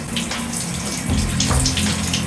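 Water runs steadily into a gas water heater under repair, a continuous close hiss and rush that swells a little louder partway through, with no voices.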